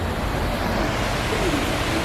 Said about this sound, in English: One last look at the waterfall.